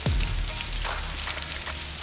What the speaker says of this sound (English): It sounds like ice, not rain.